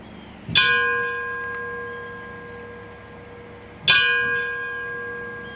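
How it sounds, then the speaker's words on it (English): Two loud bell strikes at a 9/11 memorial ceremony, each ringing out with a long, slowly fading tone, spaced a few seconds apart with quiet in between. "We will strike the bells twice for the city of New York."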